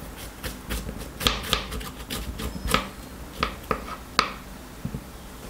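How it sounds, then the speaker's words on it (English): A knife julienning bitter gourd on a cutting board, producing crisp, irregular taps and clicks in quick bursts, close and fairly quiet. "Cut the bitter gourd into julienne."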